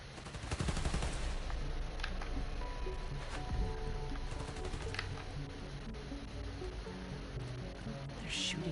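Enemies in the Spider-Man: Miles Morales video game firing guns at electrical transformers, rapid bursts of gunfire with sharp metallic cracks and pings, loud and repeated over a rumbling city background.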